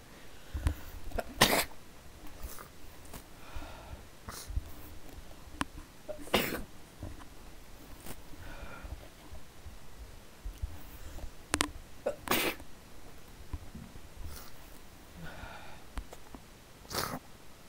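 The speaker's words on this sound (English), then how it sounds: "I just sneezed like four times" Sneezing repeated several times across a stretch of otherwise quiet room sound, sharp sudden bursts spaced irregularly, some louder and closer than others, with no talking.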